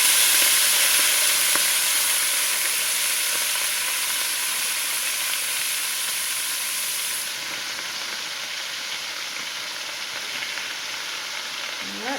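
Two bags of collard greens sizzle and hiss in rendered fat in a pot, a loud, steady frying crackle that eases slightly partway through, with no one talking.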